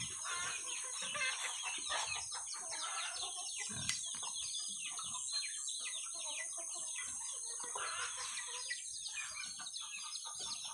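Hens cluck steadily outdoors while a rooster crows partway through, with birds chirping in the background.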